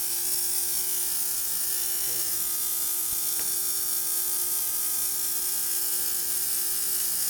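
A Pro Ultrasonics ultrasonic cleaner runs with a basket in the tank, holding a steady high-pitched whine and hum, with a couple of faint clicks partway through.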